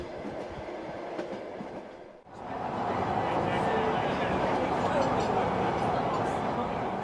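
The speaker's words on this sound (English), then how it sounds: "The train is nearing Kazan." Steady rumble and rail clatter inside a Trans-Siberian passenger train nearing Kazan in Russia, continuous and fairly loud after a brief dip, with muffled talk in the carriage.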